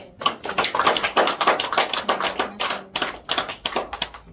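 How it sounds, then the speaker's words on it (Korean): An audience applauds a lecturer after a talk on artificial intelligence, with a crisp, fairly close round of clapping that swells and then thins out over a few seconds. "우리 다시 한번 안종배 교수님께 박수 부탁드립니다"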